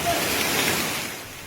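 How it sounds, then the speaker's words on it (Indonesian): Small hailstones fall with heavy rain and strong wind in a mountain village in Maros, South Sulawesi, making a dense, loud and continuous hiss and patter. "Butiran es berukuran kecil turun bersamaan dengan hujan deras dan juga angin kencang."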